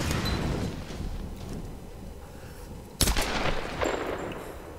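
Gunfire in the video game Tomb Raider, a rapid run of shots followed by a sharp, loud burst near the middle and then more firing, with game noise underneath.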